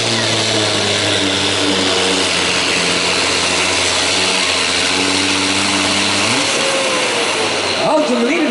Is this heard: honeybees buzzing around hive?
no